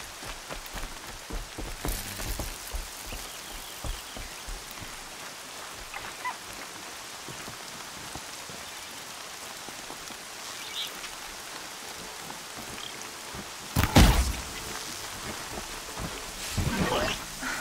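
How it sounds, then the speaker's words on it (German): Steady rain patters across the wet landscape in the Horizon Zero Dawn video game, with a constant hiss and a few louder gusts or thunder-like swells near the end. "Der Regen sieht alles gleich viel bedrohlicher aus."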